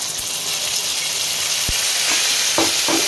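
Water poured into a pan of potatoes frying with whole spices, turmeric and salt sets off a loud, steady sizzle and hiss, with a few sharp spatter pops near the end.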